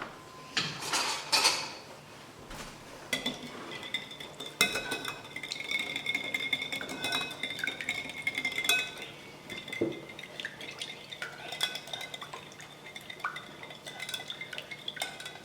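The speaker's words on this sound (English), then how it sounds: "So you just put the lemon in and then you whisk everything up." A whisk clinks and scrapes against a bowl while lemon juice is mixed into an egg mixture for Greek avgolemono lemon chicken soup, with rapid metallic tapping, a few louder knocks, and steady close-up stirring.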